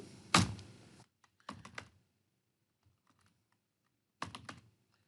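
Brief bursts of typing on a computer keyboard as a mkdir command is entered, a fast cluster of clicks, a short pause, a few more taps, then silence before a final quick flurry.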